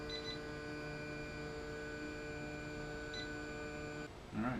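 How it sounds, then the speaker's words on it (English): An AnyCubic i3 Mega 3D printer homing its axes gives short, faint electronic beeps, two quick pairs over a steady motor hum, followed by a brief mechanical clatter at the end. "I'm not sure what those beeps mean as it's coming down."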